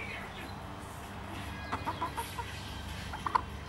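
A pet chicken clucking softly in a few short, spaced notes, close by over a quiet room background with low murmuring.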